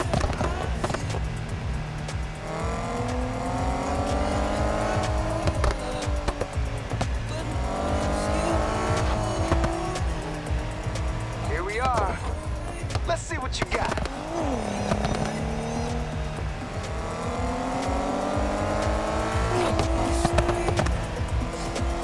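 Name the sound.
race car driving in Need for Speed Heat video game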